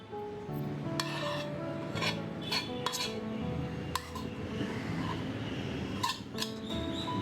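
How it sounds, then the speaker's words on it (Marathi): Corn bhel is stirred with spices in a bowl, producing soft scraping and rubbing with scattered light clinks of a spoon against the bowl, quiet and irregular throughout. "हे छान एकत्र करून घ्यायचं आपल्याला"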